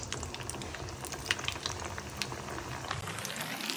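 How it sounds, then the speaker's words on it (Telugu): Balls of gulab jamun mix frying in hot oil, a steady close bubbling and fizzing hiss that continues without a break. "రౌండ్గా చేసుకున్న తర్వాత ఆయిల్లోకి డిప్ చేసుకోవాలి."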